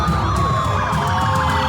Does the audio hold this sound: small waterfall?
no